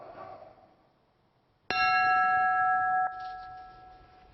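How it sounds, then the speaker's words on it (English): A single bell tolls once at a memorial service for three Baltimore firefighters, clear and ringing, its tone sustaining for over a second before fading, following quiet background noise. "The tolling of bells for a final farewell"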